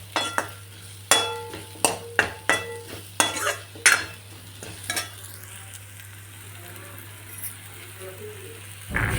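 Potatoes drop into a hot pan with ground coconut for a pea and potato curry. A run of sharp metal clinks and stirring knocks leads into a steady, close sizzle that holds on its own to the end.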